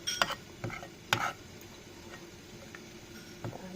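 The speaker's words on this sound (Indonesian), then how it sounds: "Kita aduk-aduk terus sampai dia mendidih." A spoon scrapes and taps around a small pot while lemper filling is stirred over low heat, a few distinct clinks near the start and scattered softer scrapes after, close and alone with no talk.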